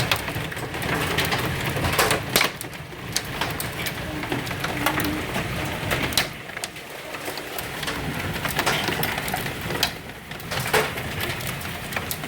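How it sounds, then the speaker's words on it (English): Dense, steady pelting of hail striking surfaces, a constant rattling hiss with occasional louder hits, no voices. "This is hail coming down. You can hear it."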